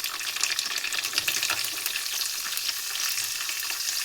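Cumin, mustard seeds, curry leaves, green chillies and onion fry in hot oil, making a loud, steady, close sizzle that crackles throughout with no talk.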